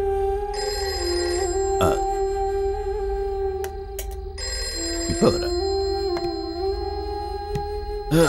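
Telephone ringing in a Malayalam film scene, a repeated electronic ring in steady bursts with short breaks, fairly loud and close, with no talk over it.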